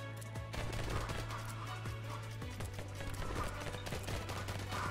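Continuous rapid machine gun fire in the bullet-heaven shooter Vampire Hunters, a steady dense rattle of shots running throughout at constant loudness with no talking.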